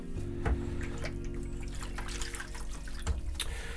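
A darkroom photographic print is rinsed in water after toning: water sloshes and trickles steadily for a few seconds, with a soft splash near the start and faint dripping throughout.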